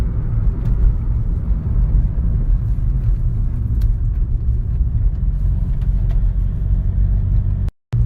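A VW Passat B5.5 with a turbo that isn't boosting accelerates at full throttle, its deep engine rumble loud and steady from inside the car before cutting off abruptly at the end.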